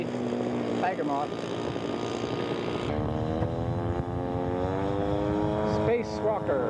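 A model Tiger Moth propeller plane at a scale aircraft show buzzes steadily, its engine note rising and falling in pitch as it flies past, fairly close and loud.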